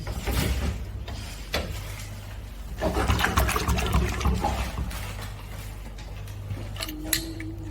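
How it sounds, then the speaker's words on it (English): Water is poured into a cooking pot holding lamb in a home kitchen, a splashing, trickling pour in bursts with some metallic clinks and handling noises, close by. "I'll put the water in and I'll tell you the level later."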